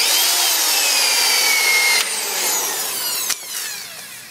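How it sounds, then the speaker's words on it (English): A power drill bores holes into a fender mount, its loud, high whine running continuously close by, dipping in pitch as the bit bites and briefly catching near the end. "So now I'm going back and drilling the holes in the mount."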